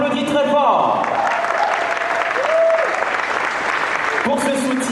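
An audience at an international festival at the University of Lomé claps loudly and continuously, while a voice carries over the applause and tonal music or whistles sound now and then.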